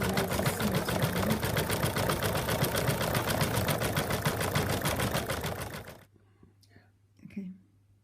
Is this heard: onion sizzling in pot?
no